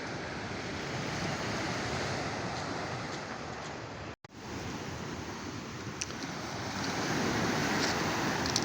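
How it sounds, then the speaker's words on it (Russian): Small sea waves wash onto the shore at Adler on a December day, a steady broadband surf hiss with wind noise, one brief dropout midway and slightly louder wash toward the end. "Водичка отличная, волны небольшие."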